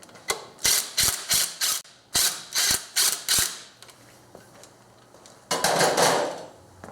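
Quick ratchet clicks come in two bursts while an adjustment bolt on a Subaru power steering pump is loosened, followed by a quieter pause and a final rougher stretch of turning, all close up with no talking.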